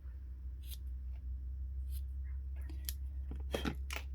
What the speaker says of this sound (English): I'm gonna go ahead and cut those so that they're even.